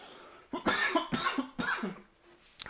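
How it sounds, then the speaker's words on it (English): A person coughs several times in a quick, close series of sharp bursts, followed by a brief pause and one more short cough at the end. "I'm going to cough."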